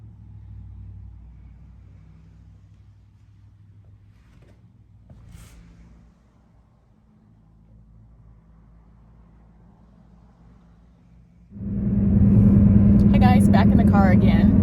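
Inside a moving car, a low steady engine and road rumble under someone talking that grows to a loud, dense roar in the last few seconds.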